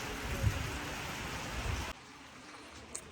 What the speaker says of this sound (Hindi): ये सारी बारिश हो रही है बाहर वाली साइड पे, और माशाल्लाह जानवर बिल्कुल ड्राई पोजीशन में है